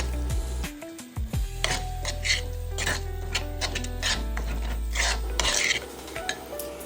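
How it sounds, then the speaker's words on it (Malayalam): Prawn masala stirred in a pan after tomato sauce goes in, a spoon scraping and rasping against the metal in repeated strokes with occasional clinks, close and fairly loud over a low steady hum. "ഈ നേരത്തെ എടുത്തു വെച്ചിരിക്കുന്ന ടൊമാറ്റോ സോസ് ചേർത്ത് കൊടുത്ത് ഇളക്കാം."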